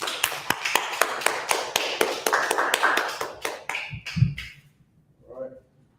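An audience applauding after a class presentation: a brisk run of sharp, close hand claps that thins out and stops, followed by a short burst of talk at the end.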